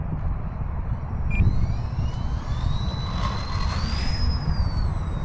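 An E-flite Valiant 1.3 m electric RC airplane takes off on its maiden flight, its motor whine rising steadily in pitch over a constant wind-buffeted background roar, heard alone without talk.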